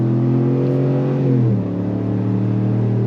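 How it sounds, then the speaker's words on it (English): A Chevrolet Tahoe V8 is revved under throttle, giving a steady, loud, deep rumble that climbs and settles as the automatic shifts, heard close up with no talking. "Love the rumble of that V8."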